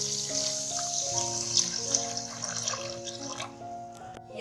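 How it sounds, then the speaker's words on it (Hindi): One litre of water pours steadily into a pot with sugar for syrup, a soft continuous splashing beneath faint background music. "और इसमें डालना है 1 लीटर पानी।"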